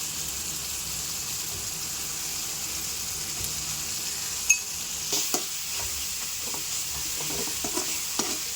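Tomatoes sauté in a pan for egg semiya, a steady moderate sizzle with spoon stirring and scraping becoming more frequent in the second half, plus one sharp clink.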